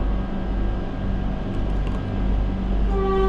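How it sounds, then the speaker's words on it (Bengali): A Vande Bharat express train leaves Howrah station after its doors close, heard as a loud, steady low rumble and hum with rising tonal whine near the end; no talking. "ট্রেনের দরজা বন্ধ হয়ে গেল এবং যথারীতি ছেড়েও দিল আমাদের হাওড়া স্টেশন থেকে।"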